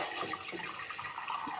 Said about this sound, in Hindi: ये मैंने थोड़ा पानी डाल दिया है